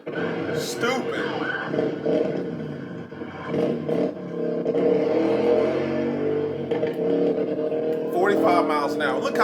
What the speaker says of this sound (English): Look how slow this damn bike is.